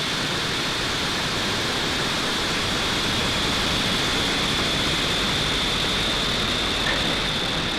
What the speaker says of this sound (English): Ignition and liftoff for Falcon 9